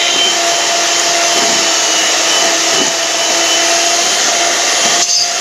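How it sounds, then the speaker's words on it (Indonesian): An electric hand mixer beats butter and sugar for a chocolate potato sponge cake, giving a steady, loud whirring hum that runs unbroken with a slight change near the end. "Pakai mixer yang sama nggak apa-apa."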